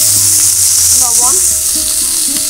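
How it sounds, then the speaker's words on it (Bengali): Shrimp fry in hot mustard oil in a wok, a loud, constant sizzle with a few faint clinks and stirring scrapes near the pan. "সরিষার তেল দিয়ে দিলাম, চিংড়ি মাছগুলো ভেজে নেব।"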